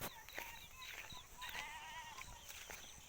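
Goats bleating on a farm, several repeated quavering calls in quick succession, fairly faint against low background noise.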